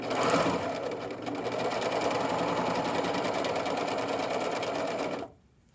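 A serger runs steadily along a fabric edge in one loud, continuous buzzing stitch that holds for about five seconds, then cuts off abruptly.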